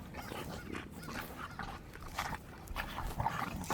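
A healthy pack of bully breed dogs barks close by, with many overlapping barks forming a loud, continuous din that fills the whole stretch.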